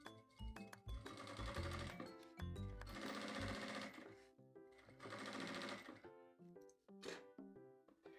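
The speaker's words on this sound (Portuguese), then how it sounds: "eu vou fazendo essa costura com a cremalheira me guiando" A sewing machine runs in bursts, stitching fabric for a creative-sewing zip pouch while the feed dogs guide the seam. Several rapid mechanical runs separated by short pauses, close and clear, with no talking.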